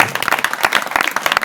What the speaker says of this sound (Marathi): बाबाजींचं आपण टाळ्या गटात स्वागत करूया.